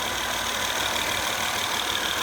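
An Acura TL's J35Z6 3.5-litre V6 engine idles with a steady, even hum, heard close up with no talking.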